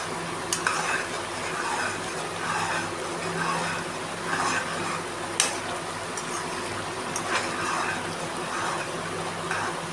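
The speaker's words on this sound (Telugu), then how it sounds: "వన్ టేబుల్ స్పూన్ పచ్చి ధనియాల పొడి, ఇప్పుడు కలుపుకోవాలి" Coriander powder being stirred into a paneer masala curry in a pan: soft, continuous sizzling with irregular spoon scrapes and clicks against the pan, close and moderately quiet, no talking.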